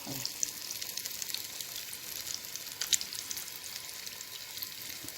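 Cauliflower frying in hot oil, a steady close hiss of sizzling with fine crackles and a few brief pops throughout, no voices.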